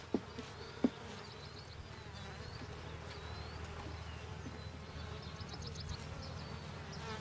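Mountain Grey Caucasian honeybees buzz steadily in an open hive during a one-week inspection, a continuous low drone with a few brief louder knocks near the start and no talking.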